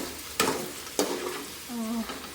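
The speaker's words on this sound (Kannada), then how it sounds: "ಇವಾಗ ಇದಕ್ಕೆ ಪನ್ನೀರ್ ಹಾಕ್ಕೊಂಡು ಸ್ವಲ್ಪ ಎಣ್ಣೆಲಿ ಫ್ರೈ ಮಾಡ್ಕೋಬೇಕು" Paneer fries softly crackling in oil in a pan, broken by two sharp scraping stirs and a low clatter toward the end; fairly quiet, no talking.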